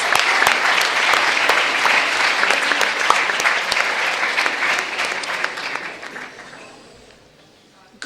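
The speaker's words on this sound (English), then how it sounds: "Please welcome her with a big applause." A large audience gives sustained applause welcoming a school headmaster at a Model United Nations opening ceremony, dense and loud clapping that tapers off and fades out near the end.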